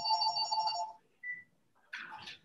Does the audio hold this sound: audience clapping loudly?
no